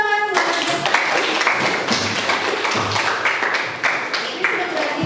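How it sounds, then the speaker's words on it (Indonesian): Classroom clapping during a lesson, a burst of hand claps from students that starts abruptly and continues steadily, with some voices mixed in underneath. "kasih tepuk tangan buat Jeffrey."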